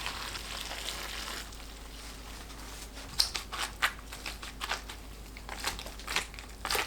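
Hot pickle brine poured over young radish greens makes a crackling sizzle, bursts of hissing and crinkly rustling that come and go.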